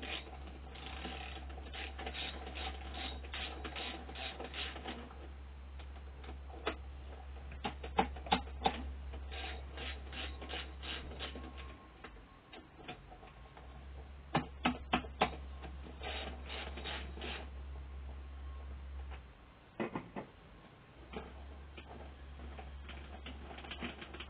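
Ratcheting and metallic clicks as bolts are undone on a Triumph Stag carburettor, bursts of quick ratchet clicks over a steady low hum, with pauses between bursts and no talk.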